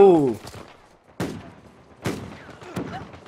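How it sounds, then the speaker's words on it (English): Shotgun blasts in the game Uncharted 4: A Thief's End come as three or four loud, sharp, booming reports spaced about a second apart, each with a short decaying tail. "Yo, that shotgun."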